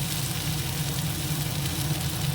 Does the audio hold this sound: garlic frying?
yes